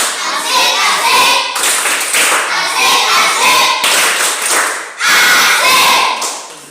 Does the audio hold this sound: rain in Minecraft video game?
no